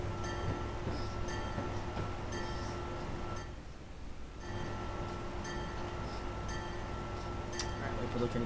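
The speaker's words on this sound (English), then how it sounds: "wait for the train to get to the platform" A simulated train rolls into a station platform in Train Simulator 2021, a low steady rumble with faint rail clatter that dips briefly midway, while someone talks quietly over it.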